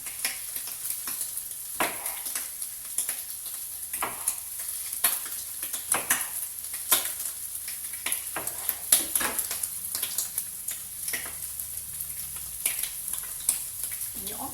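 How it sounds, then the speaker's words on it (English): Vegetables being stirred in a saucepan for a healthy breakfast salad, with a faint steady sizzle under scattered soft scrapes and clinks of a utensil against the pan, close and quiet. "just stir our saucepan around a bit"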